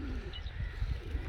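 Pigeons, about thirty-five kept as a hobby in a village, coo softly in a brief, low, murmuring stretch against a faint outdoor background.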